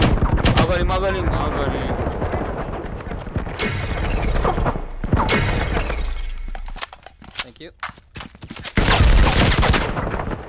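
Loud bursts of gunfire from the video game Firewall Zero Hour, including revolver shots, crack out in clusters with sharp broadband blasts and brief gaps, while a player speaks briefly over the action.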